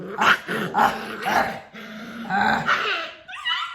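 Dogs, a puppy and its mother, growling, yipping and scuffling in rough play, close and busy with overlapping snarls, a brief lull, then a rising whimper at the end.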